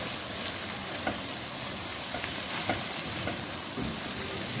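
Pulao spices and salt frying in a pot for a degi-style pulao, with a constant hissing sizzle and a few faint stirring scrapes, steady and moderately loud with no talking.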